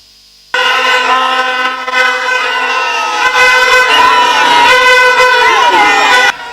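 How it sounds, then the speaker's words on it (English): A crowd of MPP supporters thronging the Menchia Palace precinct in Ghana, awaiting the president-elect, blows vuvuzelas in a loud, continuous blaring drone of overlapping horn tones, with crowd noise and singing underneath. "a crowd of enthusiastic MPP supporters had thronged the precinct of the Menchia Palace, singing and dancing and blowing vuvuzelas"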